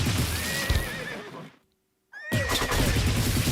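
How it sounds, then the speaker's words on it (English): A horse neighs loudly in the video game Game Builder Garage, a long wavering whinny with hoof clatter, then a brief silence before a second whinny rises again. "making horse noises to perturb their opponent"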